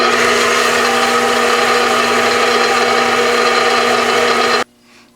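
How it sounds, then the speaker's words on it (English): A stand mixer with its paddle attachment whirs steadily through eggs and meatball mixture, a loud constant motor drone with a faint rhythmic churn, then cuts off abruptly near the end. "Put the paddle attachment back on. And then I'm just going to mix it all up really good."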